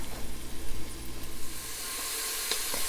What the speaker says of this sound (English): my onions have been cooking for about a minute or so